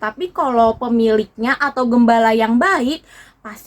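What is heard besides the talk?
No everyday noises stand out.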